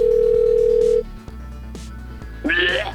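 A telephone rings on a call placed for a comedy piece about UK WWE tryouts: a steady electronic tone, then a pause and a short trilling burst of ringback, with no talk over it.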